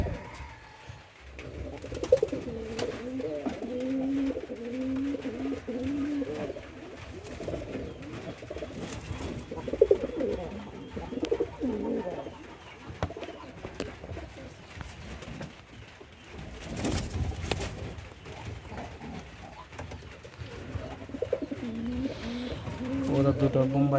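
Bombay pigeons kept in Bagharpara, Jessore coo repeatedly in close, throaty bursts, overlapping through the whole stretch, while people talk nearby.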